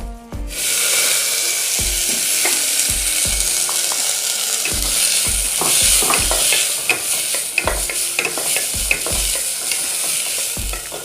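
Moth beans frying with asafoetida and turmeric in hot oil for misal, a steady close sizzle with repeated stirring scrapes and spoon knocks throughout, no talking.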